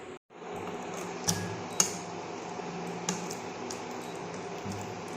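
Bengali-style chicken kosha, cooked down until the oil separates and turns reddish, is scooped from the cooking pan into a serving pot. A steady close hiss runs throughout, with a few sharp metal clinks and soft wet squishes, and no talking.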